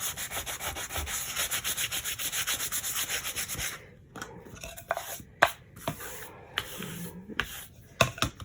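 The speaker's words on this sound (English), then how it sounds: "Sand it down a little bit." A Dollar Tree craft piece being sanded by hand, with a rapid, even back-and-forth rasp for about four seconds, then slower, sparser rubs and scrapes with short pauses between strokes, close and alone.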